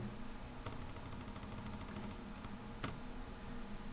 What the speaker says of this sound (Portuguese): Então nós vamos digitar aqui Almatec Website